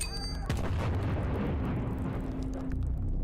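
A grenade goes off in Anoxia Station, a sharp blast about half a second in followed by a long rumbling, crackling decay under a lingering low tone, with no voices.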